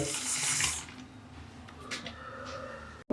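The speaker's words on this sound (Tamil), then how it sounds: "அதே மாதிரி 2வது வாட்டர் பாட்டிலையும் காவாசி தண்ணி பிடிச்சிக்கோங்க." Water gushes into a plastic water bottle, a bright rushing stream at first that settles into a quieter gurgling trickle, ending with a sharp knock.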